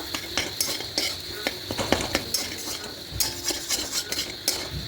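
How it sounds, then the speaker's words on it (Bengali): A spatula scrapes and clinks against a pan in quick, uneven strokes, mixing garam masala powder into a sizzling onion filling for Bengali onion chop, with soft frying hiss underneath and no talking. "এখানে একটু গরম মশলার গুঁড়ো দেবো দিয়ে আবার খুব ভালো করে মিশিয়ে নেব"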